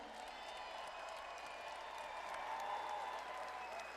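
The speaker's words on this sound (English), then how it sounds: "how about a round of applause for our heavyweights here tonight?" Applause from a fight-night crowd at a heavyweight bout, steady and fairly faint, with a constant roar and what may be an announcer's voice underneath.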